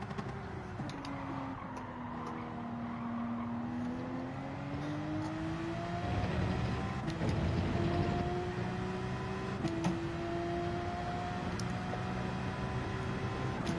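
A Porsche race car in Gran Turismo 7 with a steady engine drone that rises and falls in pitch through gear changes and throttle. It holds at a moderate level throughout, with faint ticks over it.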